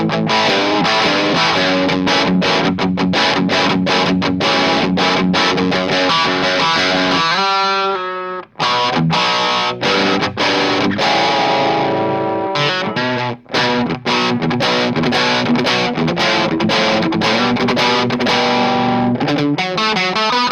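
An electric guitar runs through a Mooer Black Secret distortion pedal with the gain set low, strumming dense, crunchy chords and riffs with a brief pause midway, loud and unaccompanied.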